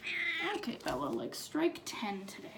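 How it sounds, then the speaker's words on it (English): A pet cat named Bella meows in short, close bursts as someone talks over it indoors. "I'm really sorry about the damn cat."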